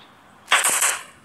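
A burst of gunfire in the online game Giant.io, with a single loud close crack followed by a short rattling tail, alone without talk.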